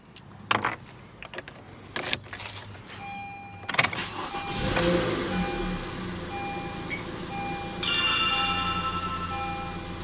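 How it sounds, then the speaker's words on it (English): Keys jingle and click in the ignition of a 10th-generation Honda Civic 2.0, then the engine cranks and catches, settling into a steady idle heard close up. "Now start the car."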